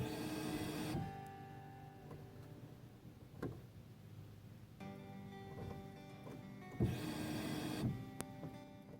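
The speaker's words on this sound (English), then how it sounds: "put the key in the run position, and you're gonna hear what the pump should sound like" An electric fuel pump in the tank of a 2006–2014 Dodge Charger runs with the key in the run position, giving a faint steady whine and hum with light ticking, loudest at the start and again near the end.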